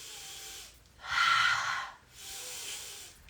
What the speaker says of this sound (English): Make some noise, breathing in.